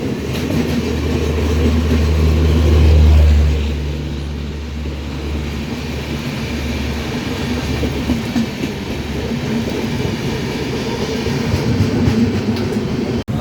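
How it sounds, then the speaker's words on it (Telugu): The Chennai–Shalimar Coromandel Express rumbles past close by at Rajahmundry railway station, a continuous heavy roar with rattling wheels and clatter that swells briefly and holds steady. "చెన్నై షాలిమార్ కోరమండల్ ఎక్స్ప్రెస్"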